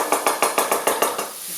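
Bell peppers and spices toast in a pan for a cauliflower sriracha dish, with a steady run of about eight sharp, evenly spaced clinks and scrapes of a utensil against the pan, fairly close and loud, with no talking.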